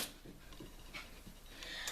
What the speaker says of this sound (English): Sorry if you hear my puppy in the background.